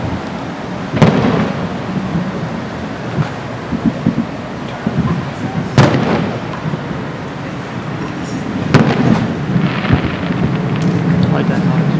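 Fireworks at Mission Beach boom and crackle in the distance. Three or four heavy blasts ring out over a constant rumble of crowd and outdoor noise, with voices murmuring throughout.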